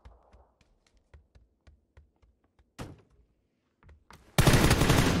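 Gunfire in the video game PUBG: a series of sharp, evenly spaced single shots, then a louder burst and a dense sustained volley at the end, with no talk over it.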